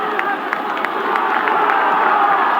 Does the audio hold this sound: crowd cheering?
yes